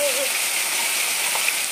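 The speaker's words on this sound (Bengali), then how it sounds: "waterfall, natural waterfall, पीसकिला waterfall, पीसकिला waterfall" A natural waterfall at Ambassa Mahadev Tila in Tripura: a steady, hissing rush of falling water fills the whole brief moment, close and continuous, with a faint voice briefly audible at the start.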